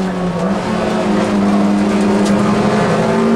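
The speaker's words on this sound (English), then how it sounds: "Wilson there turns its way through Village, now through the left-hander and down towards the link" A Toyota MR2 race car in a championship race at Silverstone drives past close by with a loud, steady engine drone that rises slightly in pitch, filling the whole moment without pause.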